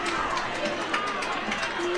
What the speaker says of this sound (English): As Exeter fans are cheering